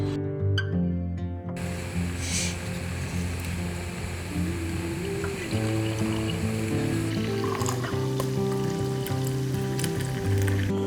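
Hot water at 92 degrees poured in stages over ground Ethiopian arabica coffee in a V60 dripper outdoors in a forest, a steady close trickle and splash running continuously with a slight shift midway, no talking.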